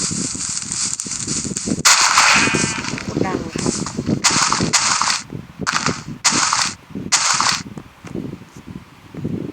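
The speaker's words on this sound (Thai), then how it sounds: "ระเบิดมาแล้วระเบิด" Repeated loud bursts of blasts and gunfire-like pops from explosions in Minecraft, with game sound effects and some voice underneath, broad crackling noise in short clustered bursts.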